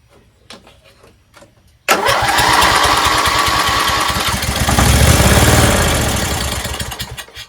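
A lawn mower engine started after the choke is set: a few quiet handling clicks, then the engine catches abruptly and runs loud and close, a steady rough drone that swells and then eases slightly toward the end.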